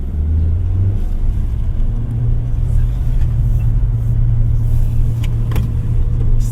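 A 2025 Suzuki Fronx driven in manual mode, its steady engine drone and road rumble heard from inside the cabin, with a low hum shifting pitch slightly as the car moves.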